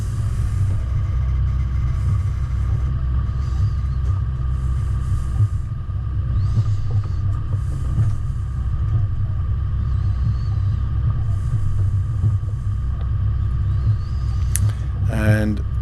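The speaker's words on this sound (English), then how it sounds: "you can see the car's working a lot harder because it just doesn't have the power that it should" Low, steady engine rumble from a car climbing a hill on a rough border track while struggling for power, loud and continuous throughout, with a brief rattling burst near the end.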